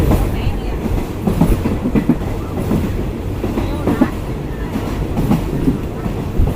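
A short five-coach passenger train rolls along the rails in Thailand, heard from inside a carriage as a loud, continuous rumble with rhythmic clickety-clack of the wheels and faint voices in the background.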